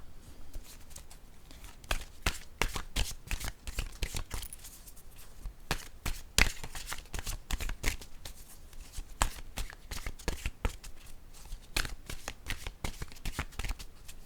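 Playing cards, likely a tarot or oracle deck, shuffled by hand in a steady run of crisp riffling flicks, close and continuous throughout with no talk.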